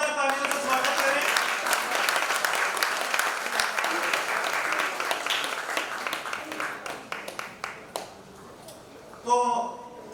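An audience at the Udaan Idol Little Champs 2018-19 grand finale in Mumbai gives loud, sustained applause to welcome a ghazal singer. The clapping fades toward the end, and a brief voice follows it.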